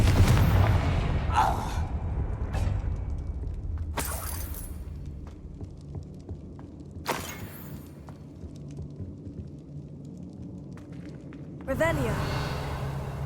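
Confringo fire spell blasts in Hogwarts Legacy, sharp booming bursts recurring several times over a steady low game rumble, with a final crackling blast near the end.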